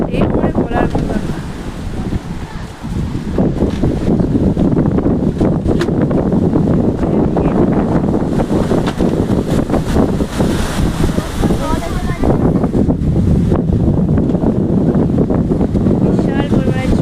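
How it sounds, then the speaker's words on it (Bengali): Heavy rain and big waves batter an island shore during monsoon weather, a loud, dense roar with strong wind buffeting close by, continuous throughout with some voices faintly mixed in. "জোর বৃষ্টি নেমে গেছে বিশাল, আর এত পরিমাণে ঢেউ"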